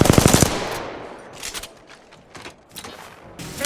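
Rapid automatic gunfire in an Apex Legends match, a loud close burst at first, then scattered mechanical clacks and shorter bursts further off.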